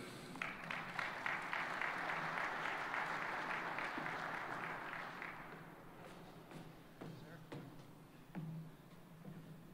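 Applause for guest speaker Rusty Braziel, with an audience clapping in a full burst that thins out after a few seconds into scattered claps, thumps and faint room noise.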